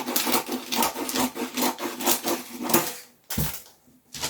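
Scissors trim the excess fabric from the side of a box sleeve in a quick run of close, rhythmic crisp snips and rubbing cuts, then a brief pause and a final snip, with no talking.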